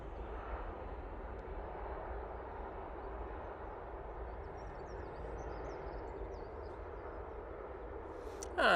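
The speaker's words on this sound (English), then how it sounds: "Next in will be the Ryanair coming in from Dublin" A Ryanair airliner arrives at Manchester Airport from Dublin, heard as a faint, distant, continuous engine rumble that stays level throughout, with a sudden louder burst at the very end and no speech.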